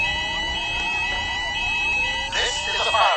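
A shopping mall fire alarm sounds in a loud, steady electronic tone, joined near the end by a sweeping warble as the alarm pattern shifts, with a recorded voice announcement running over it.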